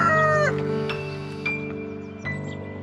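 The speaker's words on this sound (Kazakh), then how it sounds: "Әтеш кукарику дейді." A rooster crows in a farm-animal sounds sequence for children: a loud, drawn-out tonal call followed by shorter fading cries.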